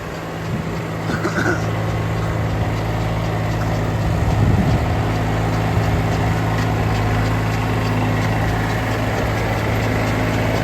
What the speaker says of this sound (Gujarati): જો આ હમણાં ટ્રેક્ટર આવ્યું